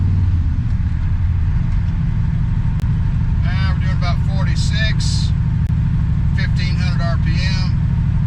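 A Corvette C3 with glass pack side pipes cruises in overdrive at around 46 mph, making a steady, loud low exhaust drone throughout. A voice comes through briefly over the rumble.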